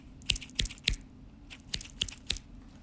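Small scissors snipping close up, a few quick crisp snips in pairs and threes with short pauses between.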